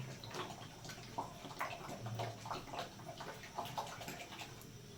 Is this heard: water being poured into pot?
yes